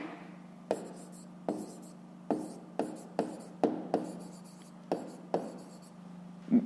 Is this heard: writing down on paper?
yes